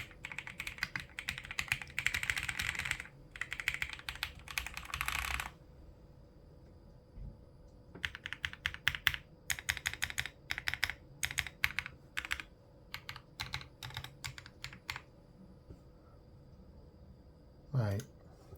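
Typing on an AULA Wind F68 mechanical keyboard with lubed stabilizers: bursts of close, crisp clacking keystrokes in quick runs, pausing briefly between flurries, with a thocky low tone and no talking.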